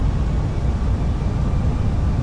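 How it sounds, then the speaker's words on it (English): Jet engines of a Fenix British Airways airliner in the MSFS 2020 flight simulator give a loud, continuous, broadband roar during a landing approach, steady throughout with no speech. "There's the speed spooling back up, engines."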